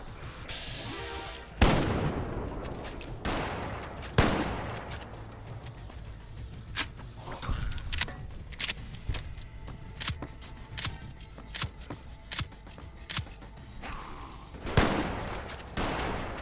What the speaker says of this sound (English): But I have a shotgun.